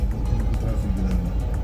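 Road traffic rumbles on a street in Enugu, Nigeria, with a car passing close by in a steady low wash of engine and tyre noise.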